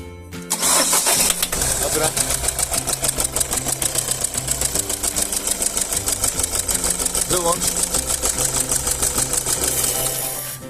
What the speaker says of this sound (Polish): Jeszcze raz go zapal.